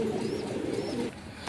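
Kaldom pigeons coo close by, a brief run of low rolling calls overlapping with faint higher chirps, fading slightly toward the end.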